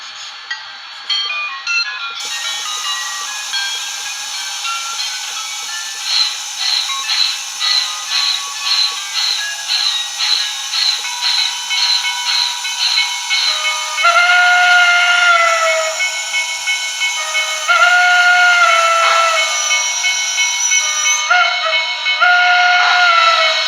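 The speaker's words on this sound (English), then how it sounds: "We're going to change the whistle." Steam whistle from a DCC sound decoder in a BLI Paragon 4 PRR I1sa model locomotive, cycling through several whistle voices: long sustained tones, a run of rapid short toots, then loud drawn-out blasts with a hissy edge, close and prominent.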